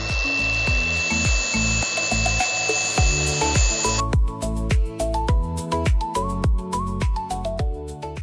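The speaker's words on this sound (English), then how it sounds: "Let's see if we can just clean this up on the flat disc." Metal hardware pieces for a removable table leg being ground on a flat disc: a steady high whine at first, then repeated rising and falling grinding bursts in a regular rhythm, close and loud, with no talking.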